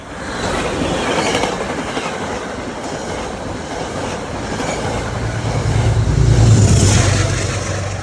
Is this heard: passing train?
yes